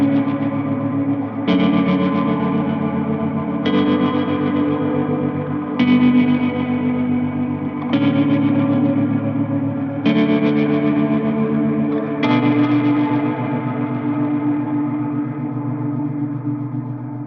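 Electric guitar chords are strummed one at a time, each ringing out for about two seconds with a slightly distorted tone, echoing through tremolo, delay and reverb.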